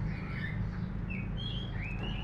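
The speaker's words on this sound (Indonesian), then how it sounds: "Warnanya bagus, suaranya merdu. Itulah kelebihan daripada kepodang emas ini guys." A caged golden oriole gives a few short whistled phrases against a steady low hum of background noise.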